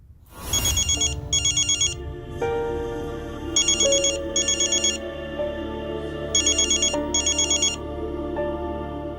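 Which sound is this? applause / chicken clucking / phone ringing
phone ringing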